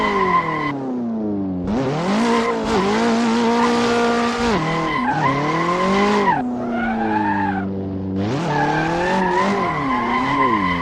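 A track car drifting in the Assetto Corsa racing game, with loud, continuous tire squeal and a high-revving engine that swells and drops through several bursts over about eleven seconds, with no voices.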